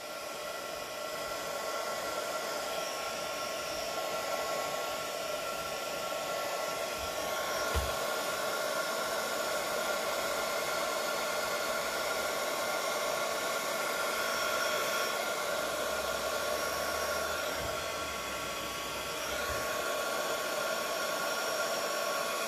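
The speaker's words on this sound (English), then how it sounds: "That's my heat tool." Heat tool blowing hot air in a steady, loud, continuous whoosh lasting the whole stretch, close by with only faint handling knocks and no talk.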